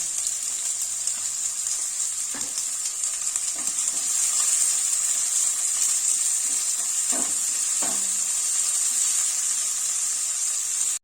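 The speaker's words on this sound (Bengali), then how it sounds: "এটাকে একটু লালচে করে ভেজে নিই" Thinly sliced large onion frying in a pan gives a steady, bright sizzle throughout, with a few soft clinks and stirring taps along the way.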